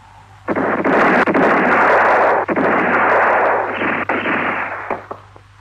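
Loud, dense volley of gunfire in a Western film battle scene, a sustained roar of overlapping shots and blasts lasting several seconds, close and powerful, then fading slightly toward the end, with no speech.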